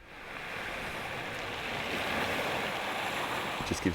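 Ocean waves breaking against the base of coastal cliffs on a northern coast trail, heard from roughly 15 to 30 metres above the water: a steady, rushing wash of surf mixed with wind noise.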